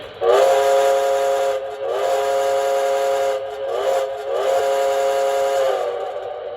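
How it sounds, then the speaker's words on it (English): Steam whistle sound effect from a model train on a powered track, several loud chime-like blasts in a row, each held one to two seconds with short gaps, clear and alone. "Here's the whistle."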